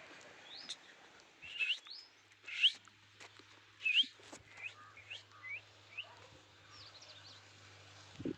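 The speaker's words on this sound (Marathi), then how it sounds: "कोणता पक्षी आहे असा." Bird calls in a sunny village farm setting: several short whistled chirps and tweets, moderately close, spaced irregularly over a quiet outdoor background with faint low hum.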